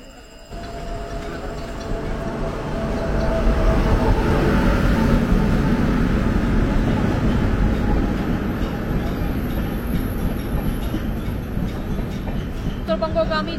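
An express train on the Sealdah–Jalpaiguri Road line passing through a station at night: a loud, sustained rumble with rolling wheel clatter, building after a quieter start and staying close throughout.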